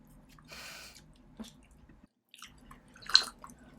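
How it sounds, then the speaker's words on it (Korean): Close, wet smacking chewing of grilled beef intestines (gopchang) in bursts, with a louder squishy bite near the end and quiet gaps between. "왜 저렇게 쩝쩝대면서 먹는 걸까요?"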